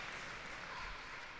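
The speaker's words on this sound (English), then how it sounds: "Can you hear the crowd? They're roaring at every point that Singapore puts away." Crowd cheering and applauding at a Davis Cup doubles tennis match between Sri Lanka and Singapore, a steady, fairly faint wash of claps and roars filling the whole stretch without a break.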